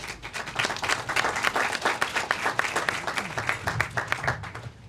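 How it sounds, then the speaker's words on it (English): Audience at a hospital nursing excellence awards ceremony claps steadily, a sustained round of moderately loud applause with rapid overlapping hand claps. "So just give yourselves a round of applause"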